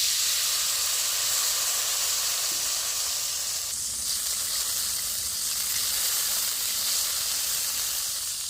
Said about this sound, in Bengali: শিরার জন্য কড়াই পরিমাণ মতো জলটা দিয়ে দিচ্ছি।